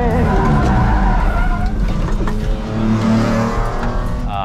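A kei race car spins out on a wet track during a 24-hour endurance race: loud, continuous engine roar with tire skid and slip noise running through the whole stretch, close and steady.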